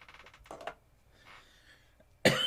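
A person coughs in a few rough bursts, a short pair early on, then a louder, harsher cough at the very end, with quiet pauses in between.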